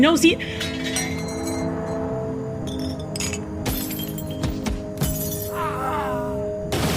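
Glass shatters loudly and close, followed by scattered clinks and tinkling fragments over several seconds, with rumbling noise and occasional voice-like sounds mixed beneath.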